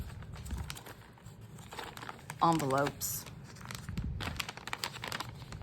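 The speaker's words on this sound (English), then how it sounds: "The tissue paper is nice. It's just plain tissue paper." Tissue paper crinkles and rustles in bursts while a haul is unpacked, soft close-up crumpling beneath and between a person's talking.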